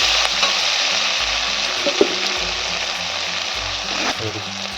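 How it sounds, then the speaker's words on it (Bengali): Tomato is stirred into browned onions frying in a pan for mete chorchori, a loud, dense sizzle with a low rhythmic scraping of the spoon and one sharp clink midway, close and continuous. "পেঁয়াজটা আমার লাল হয়ে গেছে আমি একটা টমেটো দেবো টমেটোটা দিয়েও আমি কিছুক্ষণ নাড়াবো"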